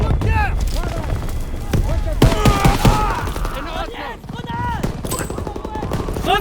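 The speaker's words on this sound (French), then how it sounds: "Daniel, lance une grenade dans ce bunker!" Gunfire and explosions in the World War II video game Call of Duty WWII, a dense battle scene of rapid shots and sharp bursts, loud and close, with voices shouting over the combat.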